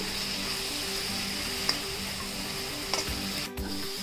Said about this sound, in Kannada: ಒಂದೆರಡು ನಿಮಿಷ ಈ ಥರ ಹುರ್ಕೋತಾ ಇರಬೇಕು.